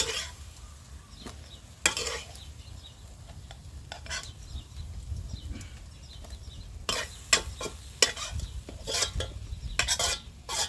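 Chili paste being stir-fried in oil for a spicy wild-food dish, a low continuous sizzle punctuated by bursts of sharp spatula scrapes and clatter against the pan, growing busier toward the end, no voices.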